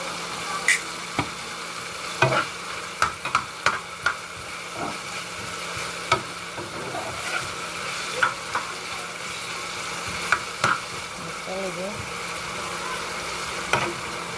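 Jamaican country-style pasta with black pepper gets stirred in a pot, producing irregular sharp clicks and scrapes of a utensil against the pot over a low bubbling sizzle, with no talking throughout.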